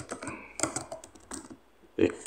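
Bursts of clicky computer keyboard typing, close and uneven, with short runs of keystrokes separated by brief pauses and a louder cluster near the end, under quiet talk.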